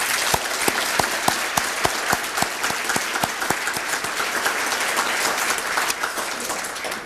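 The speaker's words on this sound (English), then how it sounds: "I think that really does deserve a round of applause." Banquet audience at a 1991 company service celebration gives a round of applause, steady dense clapping with a few sharp, close individual claps standing out near the start, lasting about seven seconds.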